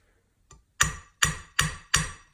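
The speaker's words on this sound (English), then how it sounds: "We're going to just take a hammer, and it shouldn't take a lot of force." A hammer tapping a domed pin head down on a handle: one light preliminary tap followed by four firm, evenly spaced metallic strikes, close and clear, with no voices.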